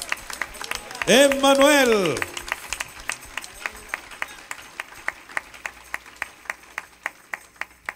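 Congregation at a church service clapping in praise, starting behind a loud sung or chanted phrase, then settling into regular rhythmic claps, evenly spaced and fairly close, with a voice over the start.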